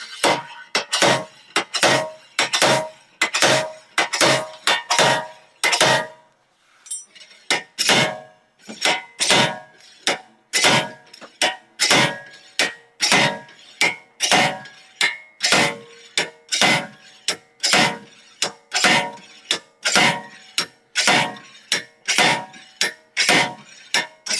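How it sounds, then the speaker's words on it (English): Sharp, loud metallic clanks of a slide hammer pulling a wheel hub from a 2006-2011 Honda Civic during wheel bearing replacement, striking repeatedly in a steady rhythm, about two blows per second, with one brief pause early on. "with your slide hammer in place, now you can pull the hub out"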